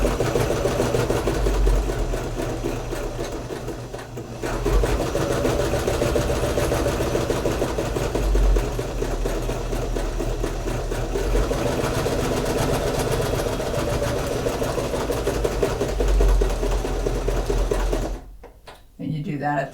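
A sewing machine runs in steady bursts as it back stitches along the edge of a fleece hat, a close mechanical whir that briefly pauses and restarts before cutting out near the end, with a voice talking over it throughout.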